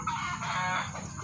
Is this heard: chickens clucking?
yes